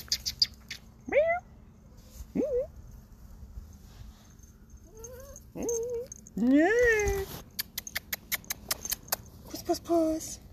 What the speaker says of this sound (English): And I think we'll end with Pusscat.